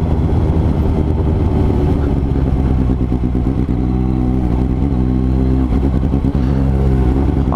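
A Suzuki GSX-S750 motorcycle engine runs loud and close, with a deep, steady rumble and slight rises and falls in revs throughout.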